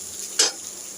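A brief burst of sizzling as onion hits a little hot oil in a pan, one short loud hiss that fades quickly over a quiet background.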